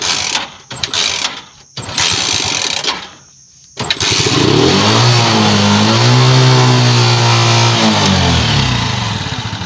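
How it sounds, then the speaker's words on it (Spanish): A carburetor motorcycle engine is kick-started with several sharp kicks and stalls, then catches and revs high, holding a loud, rising and falling roar close by for several seconds. "Se nos hace así que arranca acelerado"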